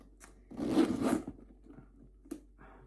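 Zipper on a Louis Vuitton handbag being pulled open, one long rasping zip followed by a couple of short faint tugs, close and alone.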